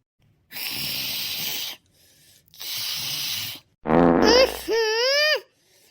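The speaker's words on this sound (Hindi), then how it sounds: "ऐसे खर्राटे बजाती जैसे भैंस सो रही हो।" A cartoon mother-in-law snores loudly: two long, rasping snores, each about a second, then a quick run of squeaky, whistling, wavering tones. No voices.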